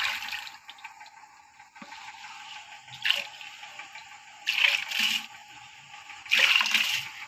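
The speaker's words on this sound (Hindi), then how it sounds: "जी तो मैं इसमें डालने लगी हूँ चावल," Washed rice pours into a pot of water in a home kitchen, making a few loud splashing, sloshing bursts close by, separated by quieter stretches of trickling water.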